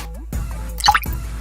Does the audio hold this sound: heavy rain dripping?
yes